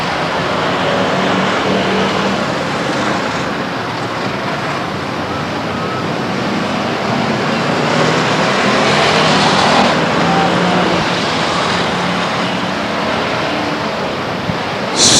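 Race cars in an enduro at Stockton 99 Speedway roar past as a heavy field in front of the grandstands, making a steady, loud wash of engine and track noise that swells slightly midway.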